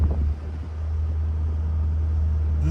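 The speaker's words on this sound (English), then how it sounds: "It even burbles at low RPMs and stuff." A hand-controlled Volkswagen GTI making over 300 hp rumbles steadily at low RPM, its deep exhaust drone loud and close and holding even throughout.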